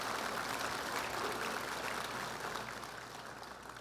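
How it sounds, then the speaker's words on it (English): Audience applause at a gospel concert, a moderate wash of clapping that gradually fades toward the end, with no speech over it. "Give them one more big round of applause."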